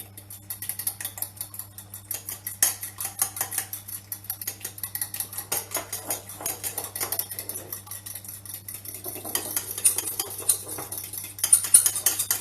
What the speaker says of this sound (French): Et vous les battez en omelette.